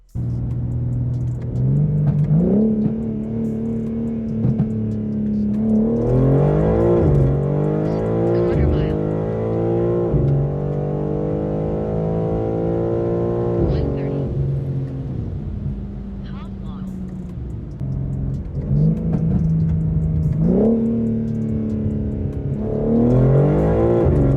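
850hp BMW G82 M4 xDrive accelerating on a quarter-mile run, loud engine note rising in pitch through several gear changes with brief dips between shifts, sustained throughout.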